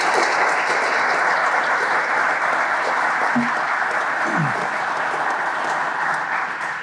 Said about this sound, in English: let's give the chaplain a round of applause